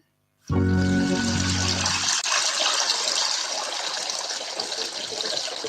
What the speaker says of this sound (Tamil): நீ வாட்டுக்கு தண்ணியை திறந்து விட்டுட்டு கையில சோப் போட்டுட்டு இருக்க